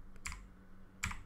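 Typing on a computer keyboard, two short bursts of quiet, close key clicks separated by a brief pause.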